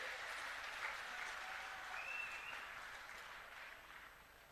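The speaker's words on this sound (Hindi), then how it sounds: "जोरदार तालियों से हमारे मुख्यमंत्री जी का अभिनंदन करिए।" A crowd at a booth workers' conference in Khajuraho applauds to welcome the chief minister, sustained many-handed clapping heard from a distance, faint and even, fading slightly toward the end.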